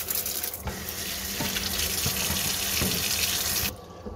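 Cucumbers washed under a running kitchen tap: a strong, continuous splashing stream of water into a sink with occasional handling knocks, loud and close, ending abruptly as the flow shifts.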